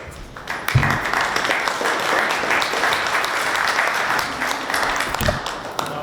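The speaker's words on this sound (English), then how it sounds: "No applause needed, thank you." An audience at a presentation bursts into applause, the clapping swelling quickly after a thump and holding steady for several seconds before tapering off.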